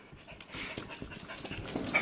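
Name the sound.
dogs panting, overheated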